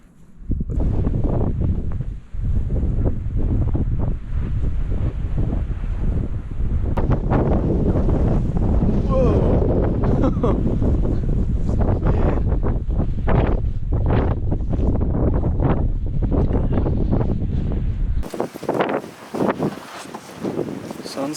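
Strong blizzard wind buffeting the microphone in Vineland, New Jersey, loud continuous roaring gusts with rustling, easing near the end.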